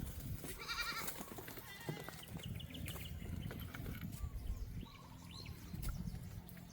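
Goats bleat at a distance over a noisy outdoor farm background, with birds chirping and faint voices.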